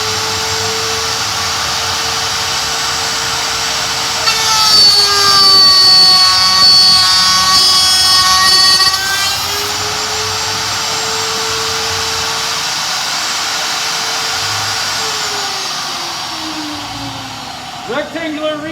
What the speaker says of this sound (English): You can cut with the miter gauge and the fence on the router.